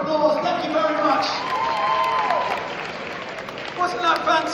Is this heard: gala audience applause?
yes